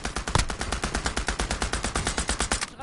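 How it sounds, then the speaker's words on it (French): Rapid automatic gunfire in a zombie shooter video game, a dense, loud, evenly spaced burst of shots that runs nearly three seconds without a break. "Oh, ça se tire dessus de partout là."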